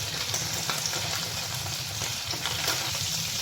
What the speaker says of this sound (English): we'll drop it in the oil. Now it's in for about like 2 minutes.